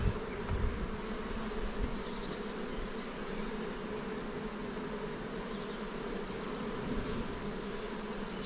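Honey bees buzz steadily in an open hive during a shook swarm, a dense, continuous drone close by that holds at an even level throughout with no talking.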